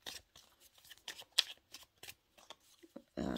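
A deck of tarot cards shuffled by hand, a run of soft irregular card riffles and slides close by, ending in a brief louder rustle, with no talking.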